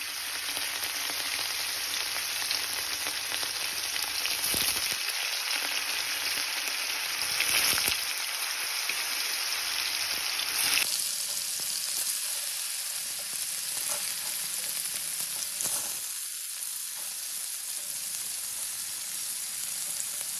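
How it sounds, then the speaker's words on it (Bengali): Paneer pieces, salted lightly, fry in hot white oil with a steady, close sizzle that runs continuously, a faint clatter of stirring now and then. "তেলটা গরম হয়ে গেলে দিয়ে দেব সামান্য লবণ দিয়ে পনিরগুলো ভেজে নেব"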